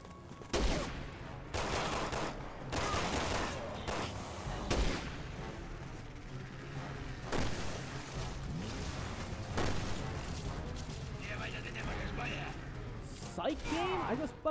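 Gunfire from Resident Evil 6 in co-op play, with repeated sharp shots and bursts scattered through the stretch, some close and loud, mixed with game effects and a voice talking over the action.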